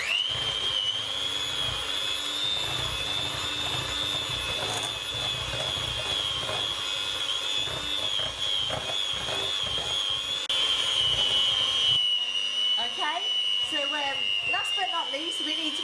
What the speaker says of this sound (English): we're going to be using the hand whisk to whisk this in